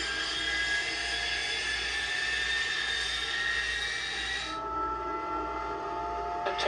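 A De Havilland Vampire jet engine spools up after lighting off during start, giving a steady loud whine and roar that changes pitch partway through.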